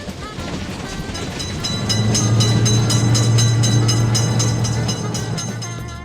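A loud train rolls steadily through a level crossing for cars, a continuous close rumble with a low droning hum and faint rhythmic clickety-clack of wheels, staying strong throughout.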